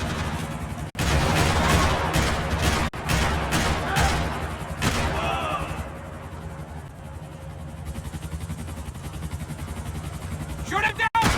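Gunfire in the video game Max Payne 3: rapid bursts of close, loud shots in quick volleys over engine-like rumble, then quieter ambience with a final sharp burst; voices talk over the action.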